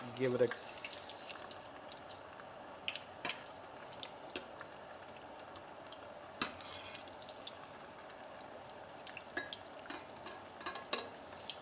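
Garlic spare ribs are stirred in a pot on the stove, with light scraping and soft sizzling and scattered clinks of the utensil against metal under a person's talk.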